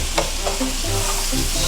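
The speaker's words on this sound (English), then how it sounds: "Just give it a nice stir." Seasoned ground beef sizzles and crackles in a frying pan while a utensil stirs and scrapes through it, a short close burst of steady frying.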